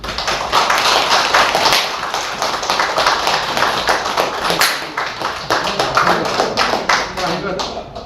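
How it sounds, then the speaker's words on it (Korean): A church congregation claps together at an anniversary service as the candles are blown out before a cake cutting, with bursts of applause continuing through the clip and voices speaking over it. "자, 우리 촛불 끄고 커팅할 때 우리 박수로 우리 축하하겠습니다."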